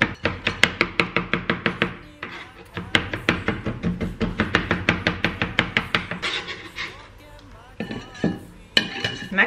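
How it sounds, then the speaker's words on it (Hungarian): A knife chops food on a cutting board in a home kitchen: rapid, steady strokes close up, with a couple of short pauses before the cutting resumes. "Így ezt összevágjuk."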